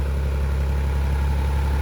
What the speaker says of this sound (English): the engine is a little hot, idling a little high